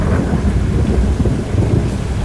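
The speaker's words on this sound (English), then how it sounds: "Oh, we got hail." Hail pelting down during a thunderstorm ahead of a tornado, a dense steady rattling roar with rumbling undertones that fills the whole stretch without pause.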